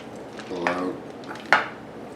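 A spoon scrapes seeds out of a halved butternut squash in a home kitchen: a short, soft scrape, then a single sharp metallic clink near the end.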